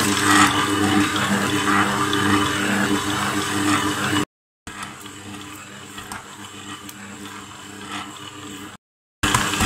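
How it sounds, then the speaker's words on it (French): Electric hand mixer running on its lowest speed, beating soft small pieces of butter into dough: a steady whirring drone with wet churning, close and continuous, broken by two brief silent cuts. "je vais le mettre vraiment au ralenti, mon batteur"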